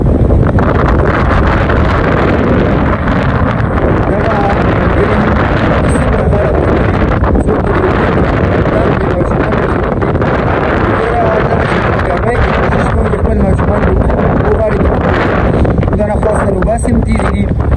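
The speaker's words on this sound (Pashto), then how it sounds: "انتهایي تیزه سیلۍ ده." A strong windstorm sweeps through Swat, whipping up dust and sand. It comes as a continuous loud roar of wind buffeting the microphone across the whole stretch, and a voice talks faintly underneath.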